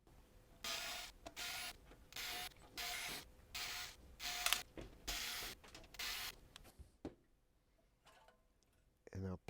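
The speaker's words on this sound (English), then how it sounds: "We've got to remove some more screws here" Screws being removed from a Nissan Leaf head unit, heard as repeated bursts of a ratcheting screwdriver or driver whirring in short pulses, close and fairly loud, followed by a quieter clatter near the end.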